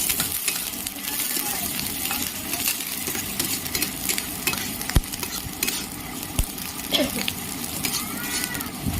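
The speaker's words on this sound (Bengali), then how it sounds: "একদম হালকা করে ভেজে নেব।" Oil sizzling steadily in a pan while ingredients for a Bengali egg chop are lightly fried, a continuous hiss with occasional utensil clicks and scrapes close by.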